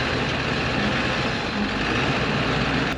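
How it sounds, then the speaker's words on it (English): A full-size diesel truck crawls over rocks on the Rubicon trail, its engine droning steadily and loudly while the front end adds rough clunks and creaks beneath, with no talking. "The front end of this truck is making all kinds of noises"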